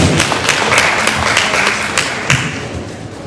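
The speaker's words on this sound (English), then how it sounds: "Let's give a round of applause and go back to the seat." People at a mental health summit give a round of applause, dense clapping up close with a few heavier thumps, fading slightly toward the end.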